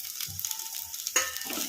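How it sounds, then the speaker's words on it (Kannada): Sliced onions and green chillies fry over medium flame in a kadai, giving a soft, steady sizzle with a few brief stirring scrapes, close and fairly quiet, with no voices. "ಉಳ್ಳಾಗಡ್ಡಿ ಹಸಿಮೆಣ್ಸಿನ್ಕಾಯಿ ಚೆನ್ನಾಗಿ ಫ್ರೈ ಆಗೋವರೆಗೂ ಫ್ರೈ ಮಾಡ್ಕೊಂಬಿಡೋಣ"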